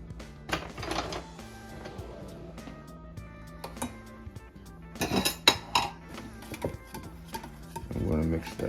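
A whisk beats mayonnaise and milk in a bowl for coleslaw, making bursts of metallic clinks and rattles against the bowl, with a voice heard in places.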